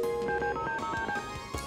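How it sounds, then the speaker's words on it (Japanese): Telephone dialing in the video game Tokimeki Memorial: a quick run of synthetic touch-tone beeps plays in a steady rhythm with a faint ring tone behind it, fairly quiet and without speech. "ちょっと電話しよう"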